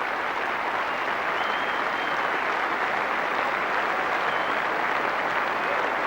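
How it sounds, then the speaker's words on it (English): A cricket crowd at Old Trafford applauds a century in an England versus India Test match, a broad, even wash of clapping sustained throughout with a faint hint of voices beneath. "The big applause, players' balcony"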